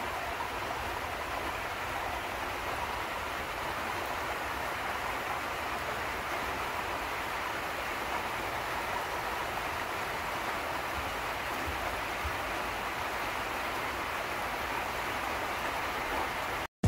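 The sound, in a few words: rain falling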